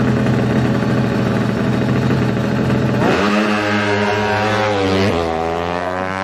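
A Yamaha MX King motorcycle, fuel-injected and bored to 325cc for drag racing, runs loud and close with a steady rough idle, then revs sharply upward and settles again in two rising throttle blips.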